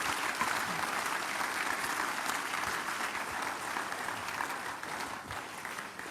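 A church congregation at a communion service applauds in a sustained, even wash of clapping, moderately distant, with faint voices mixed in.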